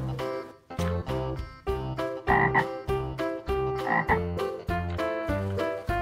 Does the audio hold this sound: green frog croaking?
yes